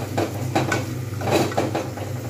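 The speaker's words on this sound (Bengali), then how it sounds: "আবার ফের এটা কিন্তু ভালোভাবে নাড়িয়ে দেবো।" A spoon stirs chana masala into kabuli chana paneer in a pan, giving several soft scraping and clinking strokes close by over a low steady background hum.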